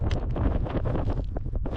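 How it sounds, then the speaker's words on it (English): Strong wind blows above the treeline on a Patagonian mountain trek, buffeting the microphone with loud, gusty rushing noise that stays close and constant for the whole stretch, with no voices. "Above the trees, the world opens, and so does the wind."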